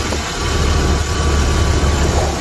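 A Ford Model T engine running with a slight misfire on a day trip drive, a loud steady low rumble throughout with no talking.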